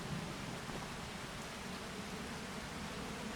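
Steady rain falls in the farming video game Farming Simulator 25, a faint, even hiss of rainfall continuing without a break and with no voices over it.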